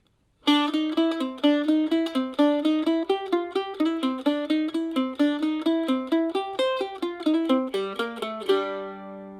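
A mandolin plays a quick bluegrass tune in bright, evenly picked notes, close and clear, ending on a ringing held note.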